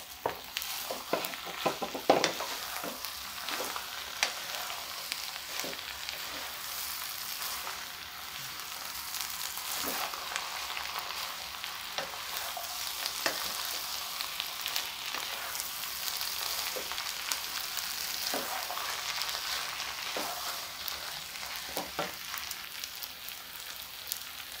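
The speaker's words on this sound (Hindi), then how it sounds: "अब इसको मिक्स करेंगे पालक को। अब फ्राई किए हुए आलू डाल देंगे।" Spinach being stirred with fried potatoes in a pan for a mixed winter vegetable dish, a steady sizzle of frying throughout with repeated scraping stirs at irregular intervals, close and moderately loud, with no talk.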